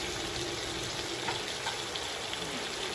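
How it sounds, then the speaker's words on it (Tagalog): Steady rush of hot water being poured into a pot for chicken tinola, a continuous splashing gush at moderate level with no voices. "Lalagyan ko na po siya ng tubig."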